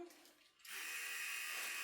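An electric toothbrush buzzing inside a Ziploc bag: after a quiet start, a steady high electric whir switches on and holds loud and constant to the end.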